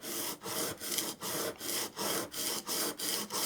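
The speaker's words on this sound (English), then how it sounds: "I'm using my 600 grit diamond stone" A scraper plane blade rubbed back and forth on a 600 grit diamond stone, a steady rasping scrape in about nine even strokes with brief pauses at each turn, close and alone.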